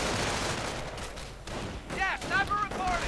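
Distant gunfire and scattered explosions sound through a strategy video game battle, with a steady low rumble of shots. A voice talks over the battle, and short rising whistles are heard near the end.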